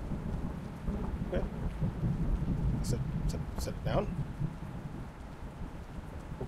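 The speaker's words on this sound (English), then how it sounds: "It's a very interesting vibe, it's raining." Steady rain with rolling thunder in a horror video game, a continuous wash of rainfall under brief crackles and low rumbles, while a person talks over it and a short voice line is spoken.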